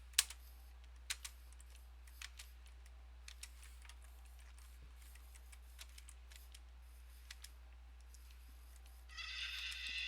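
Computer keyboard keys are tapped in sparse, irregular clicks, faint and close, with a brief louder noise at the end.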